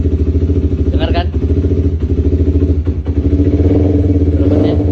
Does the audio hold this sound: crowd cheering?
no